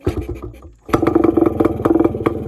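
Thai Tiara motorcycle engine, a fault causing the throttle not to pick up, idling roughly then catching with a burst and running in a fast, uneven chugging rhythm, close and loud.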